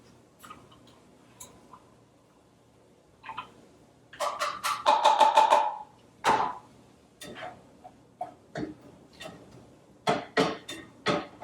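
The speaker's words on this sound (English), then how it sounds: "start adding these canned foods and the red onions that I chopped" Canned foods and chopped red onions get tipped into a pan for stuffed peppers, making scattered clinks and knocks of spoon on can and pan, with a brief cluster of rapid taps and a soft thud, close by.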